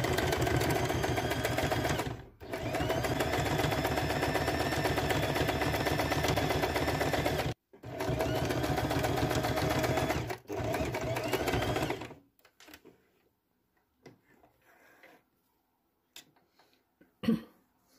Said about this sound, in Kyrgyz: Мына экиге бүктөп туруп бул жерден 1 сантиметр коюп тигиш жүргүзөбүз.